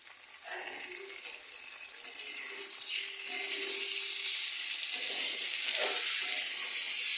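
Chopped tomatoes dropped into a pan of frying mixed vegetables for a navratan korma, a sharp burst of loud sizzling that swells and stays bright and hissing, close by.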